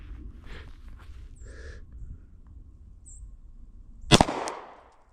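A Glock 48 MOS pistol fires a single sharp, loud shot close by on a shooting range, following a few seconds of quiet ambience and faint small noises.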